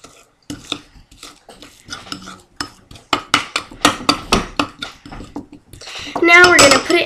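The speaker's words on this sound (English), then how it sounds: "Just mix it all up. Make sure that it keeps getting mixed in." Utensils clink and scrape rhythmically against a bowl while stirring a lip scrub mixture, a steady run of close metallic taps with a brief louder clatter at the end.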